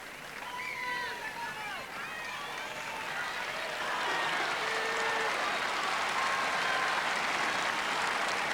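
The crowd at a 1985 Wimbledon men's tennis match applauds loudly and continuously, swelling midway, with voices and whistles mixed into the broad clapping.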